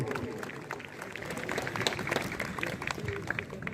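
Applause from the audience at a police PAC battalion parade ceremony, scattered clapping rising and falling under a noisy outdoor background with voices mixed in.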